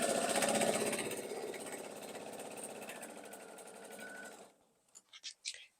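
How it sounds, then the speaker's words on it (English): Sewing machine stitches pairs of fabric triangles together in a fast, even mechanical chatter that runs steadily for over four seconds, then stops, followed by a few short soft handling clicks. "And I'm going to sew them."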